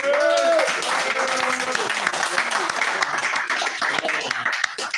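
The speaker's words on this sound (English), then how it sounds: "that is something to clap about" An audience applauds at a Sunday gathering, a dense, steady patter of many hands at moderate loudness, with voices calling out over it at the start.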